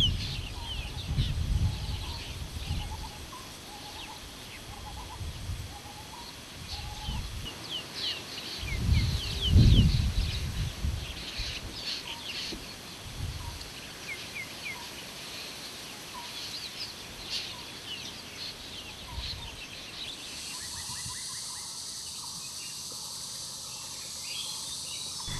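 Colorful wild birds call near the Brahmaputra river around Kaziranga National Park: scattered bright chirps and short calls over a low outdoor rumble, moderately distant, with no talking.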